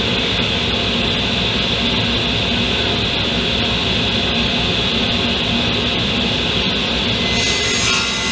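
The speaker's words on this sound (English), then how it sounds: "now what I'm doing is I'm cutting the bottom shelf of the dresser" A saw cuts through Baltic birch plywood for a dresser's bottom shelf, with a continuous, loud, gritty rasp that runs unbroken throughout and brightens slightly near the end.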